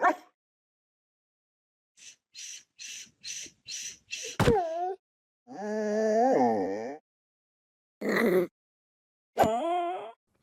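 Cute wolves from a Minecraft snapshot give a quick series of five or six short, high yips, then a rising whine, a longer wavering whimpering moan, and two brief closing yelps, all clear and close with no talk.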